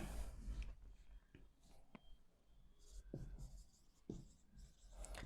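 Writing words on a board in a classroom: a few scattered, faint taps and strokes, close but quiet, with low background noise.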